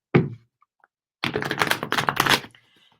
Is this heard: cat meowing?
no